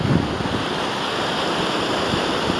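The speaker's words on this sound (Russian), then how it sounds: "Видно, что море волнуется" Red Sea surf washes in a continuous broadband roar on a choppy day at a Sharm El Sheikh hotel beach, with wind buffeting the microphone and no voices.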